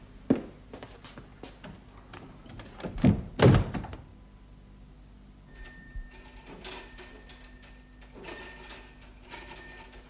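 An office door is pulled shut indoors with a couple of heavy thunks, followed by softer clicks, footsteps and faint rustling movement in a quiet room, with no talking.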